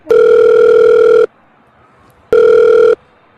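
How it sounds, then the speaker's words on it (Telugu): An electronic phone ringback tone sounds twice, a long steady buzz followed by a pause and a shorter second buzz, loud and clear. "ఈ దివ్య పేరెంట్స్కి కాల్ చేద్దాం."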